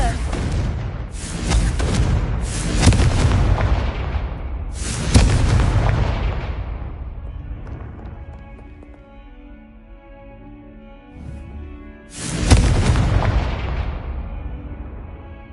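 Confringo blasting spells in Hogwarts Legacy set off a string of loud, booming explosions, several in quick succession, then a lull with lingering rumble before one more heavy blast.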